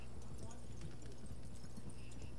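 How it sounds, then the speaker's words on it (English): A horse gallops in Red Dead Redemption Online, with steady rhythmic hoofbeats heard faintly behind game noise. "Look at how he's chasing my horse."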